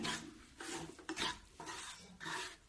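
Gram flour (besan) roasting in ghee over low heat, stirred with a spoon in a pan: soft rhythmic scraping strokes, about five of them, each a gritty rasp close up and fairly quiet.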